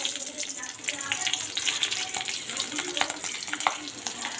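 Torn green chillies dropped into a cumin-seed tempering in hot oil, giving a steady, busy crackling sizzle with scattered pops that stays close and even throughout, with no voices.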